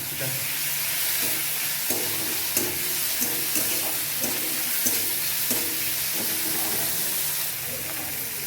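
Dried fish (shutki) goes into a turmeric-free Bengali curry and is stirred through, with a steady sizzle under brisk, rhythmic spoon scrapes against the pan.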